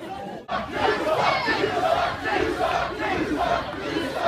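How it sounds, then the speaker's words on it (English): A basketball game crowd sends up a continuous roar of overlapping shouts and cheering voices, loud and close, after a brief dip at the start. "I am witnessing a rather unrowdy crowd who is desperate to get in the game"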